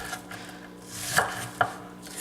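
A knife rocks through a diced onion on a cutting board, giving two crisp chopping taps close up near the end, over a soft rustling background.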